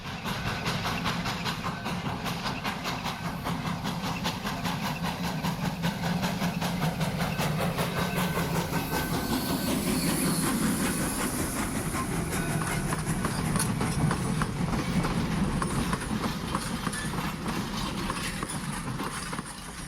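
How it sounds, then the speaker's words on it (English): Rhythmic rapid chuffing and clattering of a steam locomotive running on rails, steady and continuous with a hissing, rumbling undertone. "They love the big engine sounds and all the clouds of steam."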